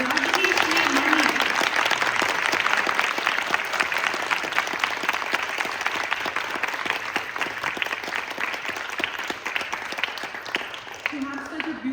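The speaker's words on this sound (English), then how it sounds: "let's give a huge round of applause to their guru" An audience at a World Music Day performance applauds a student ensemble and their guru, Rajesh Mani: dense, sustained clapping fills the whole stretch, close and steady, tapering slightly toward the end.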